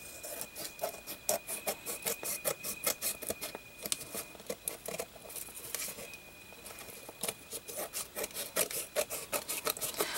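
Scissors trimming paper for the spine of a Christmas junk journal, a steady run of soft rhythmic snips and rustles up close, continuing throughout with no talking.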